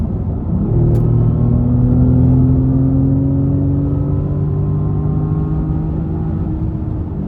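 An Audi S6 sports sedan engine revs and accelerates loudly with a deep, steady rising drone and rumble and exhaust crackling, close by, with no talking.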